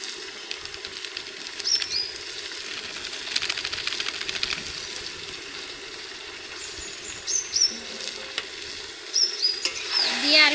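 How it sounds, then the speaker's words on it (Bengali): Chicken pieces sauté in a pan with ground black pepper and cumin, giving a steady, close sizzle of frying with repeated scraping and clattering of a spoon stirring against the pan. "এভাবে আমি চিকেনগুলো কষিয়ে নেব।"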